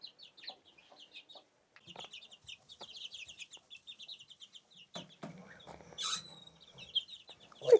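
Chickens cluck in a rapid, chattering series, with a rooster among the flock; the calls sit close by and carry on throughout, thickening toward the end with a louder squawk.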